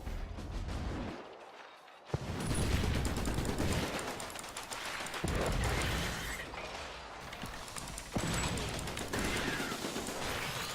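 Rapid, dense gunfire and heavy explosive blasts from the video game Iron Brigade, loud and continuous with brief lulls between bursts.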